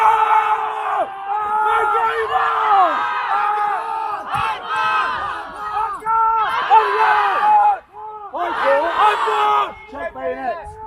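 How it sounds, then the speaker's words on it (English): Soldiers in an Australian Army bayonet fighting drill scream loud, sustained battle cries together, several voices at once in repeated surging bursts with brief dips between them. "Get screaming!"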